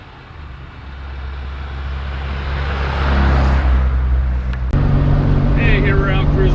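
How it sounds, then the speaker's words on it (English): A 1964 Austin Mini Cooper cruising along a country road in Oregon, its engine droning steadily and growing louder, with a sharp shift in tone near the end. "here we're out cruising around a little mini out here in beautiful Oregon"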